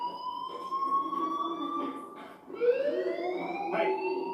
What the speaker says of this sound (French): T'as entendu l'alarme incendie?